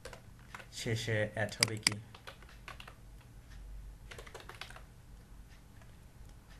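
Computer keyboard typing during a Bengali jQuery coding tutorial: quick, light key clicks come in scattered bursts, some under a man's speech and some alone.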